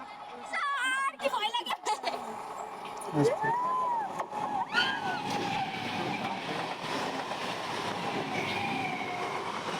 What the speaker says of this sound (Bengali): ট্রেন চলে এসছে দেখো